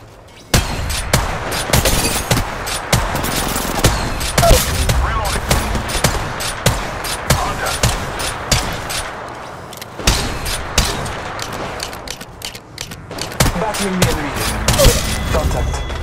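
Gunfire in the mobile battle royale shooter Apex Legends Mobile, with dense rapid bursts of shots and automatic fire running nearly the whole stretch, loud and close, with a brief lull partway through.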